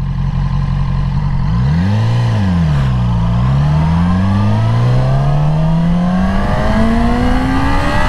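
A 2020 Yamaha R6 sport motorcycle accelerates hard on a first ride, its engine note sweeping up in pitch, dipping briefly with a gear change, then climbing steadily and loudly to the end, with no talk over it.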